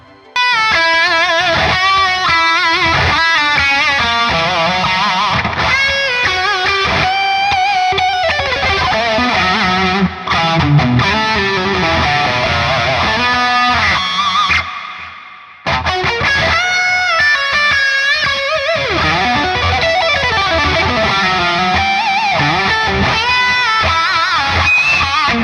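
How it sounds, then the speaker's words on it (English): An electric guitar played through the Neural DSP Granophyre with a delay effect rings out in loud, sustained chords and melodic lines with trailing echoes, cutting off briefly midway before resuming, with no talking. "So this is with a delay."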